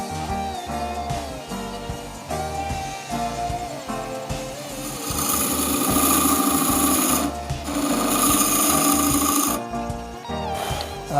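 Wood lathe spinning a stabilised amboyna burl shaving brush handle, with a skew chisel on the tool rest; a steady, humming motor whine runs throughout, with louder, rougher cutting bursts swelling in the middle.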